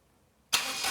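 A Mira car engine, running on its own petrol with a straight pipe, fires into life abruptly after a brief silence, catching and settling into a loud, steady running note.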